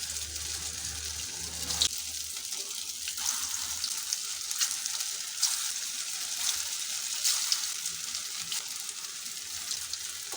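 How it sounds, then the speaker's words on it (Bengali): Soya chunks sizzle steadily in hot oil, with a constant crackling hiss and small pops scattered throughout. "এবার এগুলো ভেজে নেব"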